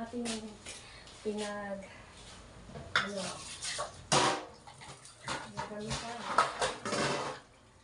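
Dishes and plates being washed in a home kitchen, with clinks and clatters of crockery and bursts of running water in irregular bursts, heard under a voice talking.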